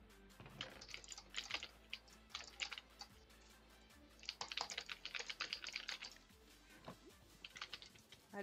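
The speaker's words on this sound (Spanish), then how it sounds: "Alguien está reventando el teclado." Someone pounds hard on a computer keyboard in rapid, uneven bursts of clattering keystrokes, quiet and close, with brief pauses between flurries.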